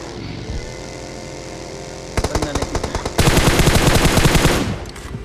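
Automatic gunfire in a battle royale video game, sporadic shots building into sustained rapid bursts that dominate before fading, loud and close over a steady engine-like drone.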